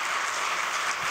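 An audience at a business forum gives panelists a dense, steady burst of applause, a continuous wash of many hands clapping at once in a large room.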